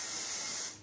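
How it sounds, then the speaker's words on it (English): Bedhead Queen for a Day hairspray misted lightly around a head of hair, a steady close aerosol hiss lasting just under a second and fading slightly at the end. "we're going to take a little bit of the Queen for a Day by Bedhead, do a light spray all the way around"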